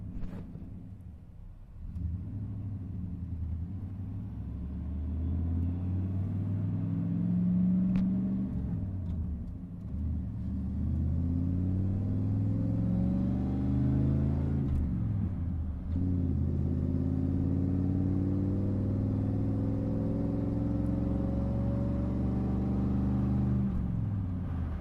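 A 1993 Chevy Suburban truck driving in third gear, its engine droning low and steady as the pitch climbs and drops through a few changes in speed, no voices.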